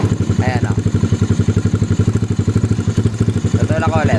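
A Mio Sporty 232cc motorcycle engine with a flat slide carburetor runs with a fast, even knocking clatter, close and loud throughout, while a voice briefly sounds over it.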